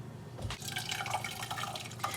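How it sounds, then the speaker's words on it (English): Excess water poured out into a kitchen sink while cooking enchiladas, a soft splashing and dripping trickle lasting a couple of seconds, fairly quiet and close with no talking. "you could toss out your excess water in the sink."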